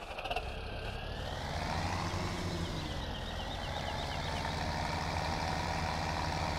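Tractor engine in Farming Simulator 17, a steady loud droning rumble that rises and falls slightly in pitch as it runs continuously, with no talking.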